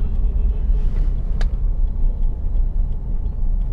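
A car moving in second gear through city traffic gives a steady low engine and road rumble, with a brief sharp click partway through.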